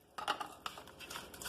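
Close, irregular cracking and crinkling as pieces of thick microwave peanut brittle snap and clatter, several small breaks in quick succession at low volume.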